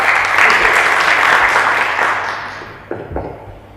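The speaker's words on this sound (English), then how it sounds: "Let's have a round of applause." Loud, dense applause from a crowd fills most of the clip, tapering off toward the end before a couple of brief thumps.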